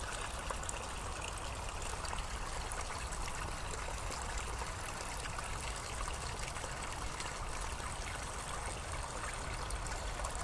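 A small woodland stream beside a path trickles over tiny falls, a steady close bubbling and splashing wash that holds evenly throughout with no voices.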